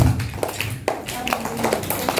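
Hands are blown on and then patted together during a tayammum demonstration, making a few soft, close taps and claps in quick succession while a voice speaks alongside.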